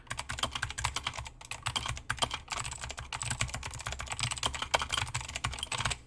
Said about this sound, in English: This is a pretty loud keyboard.